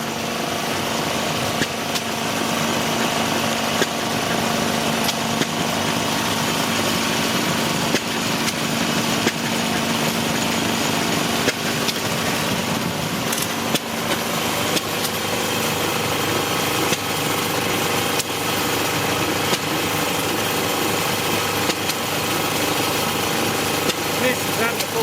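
An old stationary engine at a private club runs steadily on full compression, a dense continuous chug with a sharp rhythmic beat held throughout, loud and close.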